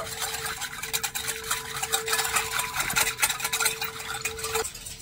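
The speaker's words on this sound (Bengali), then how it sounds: "এবারে একটা হুইস্ক দিয়ে একটু ভালো করে মিশিয়ে নেব।" A whisk stirring yeast and sugar together in a bowl, producing a continuous quick scraping and swishing with a faint steady hum behind it, close and moderately loud.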